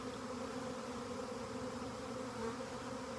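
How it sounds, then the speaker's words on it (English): A swarm of honeybees gathering low on a branch makes a steady, faint, droning buzz that holds unbroken throughout. "This is how bees reproduce. As swarms."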